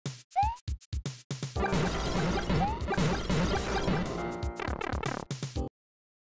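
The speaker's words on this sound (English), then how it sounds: "Plate shatter dot wave." Plates shattering one after another in the video game Toad Strikes Back, a string of sharp crashes with ringing shards, dense and loud through the middle before several separate smashes at the end.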